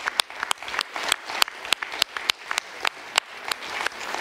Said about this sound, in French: Et je crois qu'on peut l'applaudir.